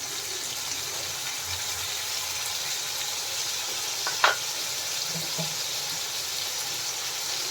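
Mustard and poppy seed paste sizzling in an oiled pan while cooking banana flower chorchori, a steady close frying hiss with a brief clink partway through.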